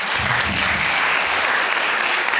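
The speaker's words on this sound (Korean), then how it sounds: "이거 진짜 박수 한번 부탁드립니다" A university book-concert audience breaks into loud, dense applause, continuous and close for the whole stretch.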